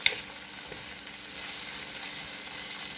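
Bean sprouts stir-fry for shrimp chow fun with a steady, moderately loud hiss and sizzle, opening with a brief clink of the utensil and carrying on evenly with no speech.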